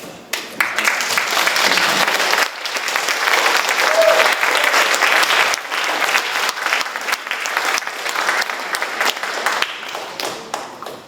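Sustained applause from an audience after a speech at a youth forum, dense clapping that swells and holds steady for several seconds, then thins slightly toward the end.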